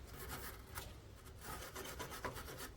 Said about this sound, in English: So I just generally use a little wire brush